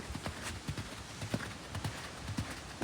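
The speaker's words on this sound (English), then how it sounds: "you can see the canter is a little weak at times" A horse canters, its hooves striking in a steady rolling three-beat rhythm of muffled thuds at moderate distance, with no voices over them.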